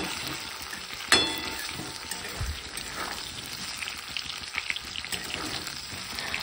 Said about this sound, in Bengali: আমি আলুগুলোকে লবণ হলুদ দিয়ে ভেজে নিচ্ছি ভালো করে